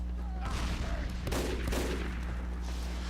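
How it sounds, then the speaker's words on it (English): Sentry gun firing in Team Fortress 2, a steady rapid gunfire rattle running under continuous game noise and a low hum, with a brief louder burst midway. "We can hear a sentry up ahead."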